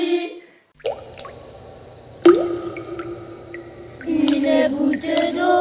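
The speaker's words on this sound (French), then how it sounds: "Une goutte d'eau est tombée du ciel, et sur mon carreau là elle ruisselle." Water drops fall one by one with clear, bright plinks and small liquid plops, spaced unevenly at first and then coming in a quicker cluster of dripping near the end, close and distinct against a quiet background.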